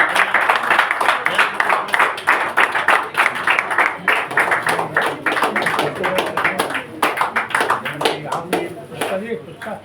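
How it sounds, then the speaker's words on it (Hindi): An audience at a Dussehra event claps for the guests, with scattered clapping running throughout while a voice talks over it. "एक बार जोरदार तालियां हो जाए हमारे अतिथिगणों के लिए।"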